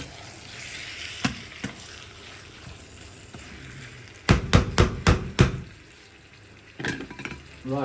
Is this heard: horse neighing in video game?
no